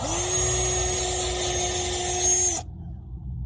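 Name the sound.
wire brushing a car wheel hub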